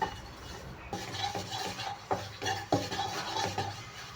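Tomatoes being sautéed in a pan for restaurant-style tomato soup: a soft frying sizzle under repeated scraping and clinking as a spoon stirs against the pan, several distinct strokes, close and moderately quiet, with no one speaking.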